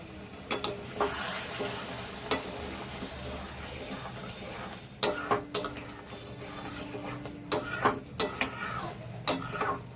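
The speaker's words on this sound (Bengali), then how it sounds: "মাংসটা আর একটু ভালো করে কষে নিই" Chicken meat sautéing in a pan, with a steady sizzle broken by repeated sharp clinks and scrapes of a spatula against the pan, close and fairly loud, no talking.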